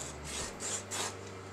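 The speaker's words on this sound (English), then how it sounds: "So just draw a straight line." A marker scratches a straight line across canvas fabric in two or three short, close rubbing strokes.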